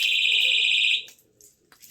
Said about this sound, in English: it's a 130 decibel alarm with a flashing strobe